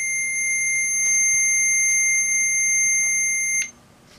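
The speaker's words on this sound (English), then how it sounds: "hit 2 volts, and off goes the alarm" A Heathkit IM-2264 digital multimeter's alarm sounds as a steady, piercing electronic tone that holds for several seconds, then cuts off abruptly, with faint clicks in the background.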